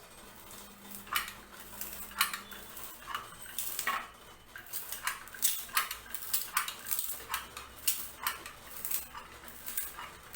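A metal idiyappam press squeezes ragi and wheat flour dough into strands, making irregular clicks, creaks and scraping knocks in quick bursts against a quiet kitchen background.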